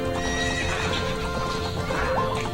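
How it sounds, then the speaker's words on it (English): Horse hooves clip-clopping at a gallop with a whinny in Ocarina of Time, a steady rhythmic beat of hoofbeats under looping game music. "I don't know if you've ever ridden a horse, but they do not gallop smooth"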